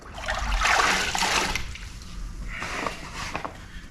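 A microfiber finishing sponge (RTC Block MF Pro) is rinsed in water, giving close, sloshing, trickling washes that swell early, fade, then return in softer splashes.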